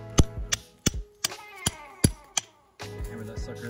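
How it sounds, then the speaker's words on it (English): A hammer drives a wedge into the cut in a tree trunk during felling with a Worx electric chainsaw: about seven sharp metallic strikes at an uneven pace, loud and close, then a brief rumble. "hammer that sucker in there"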